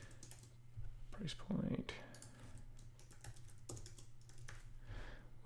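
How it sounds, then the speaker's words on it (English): Fast clicking keystrokes on a computer keyboard rattle along steadily at low level, faint and close, with a voice speaking over part of the typing. "you're probably annoyed at me while I was typing this stuff"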